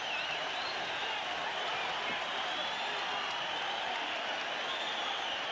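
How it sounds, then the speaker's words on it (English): A boxing arena crowd roars wildly after Zarate is knocked down by Fenech in a WBC super bantamweight title fight, a steady, dense wall of cheering and applause that fills the whole stretch without letup. "The crowd berserk."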